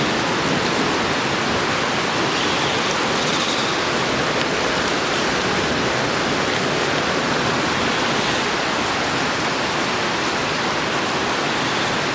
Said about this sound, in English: I've had a thunderstorm alert and it's slamming it down with rain